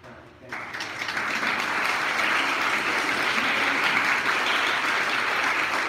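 Audience at a school performance in Bulloch County breaks into loud, sustained applause, with dense clapping that swells within the first second and holds steady throughout.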